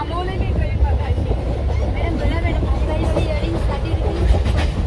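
Mumbai local train running with a steady rumbling, rattling roar throughout, close and loud, while passengers chatter over it inside the carriage.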